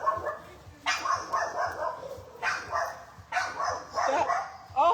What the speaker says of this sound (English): I was wondering why Teddy was barking